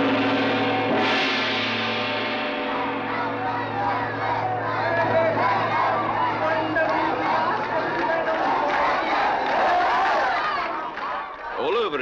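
Large festival crowd yelling and shouting together, a loud, dense roar of many voices that swells and carries on for several seconds before breaking off near the end.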